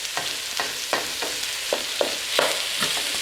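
A roux cooking in a pan for a crawfish and shrimp étouffée, sizzling steadily as a spoon scrapes and stirs it in a regular rhythm of soft strokes, close and moderately loud with no talk.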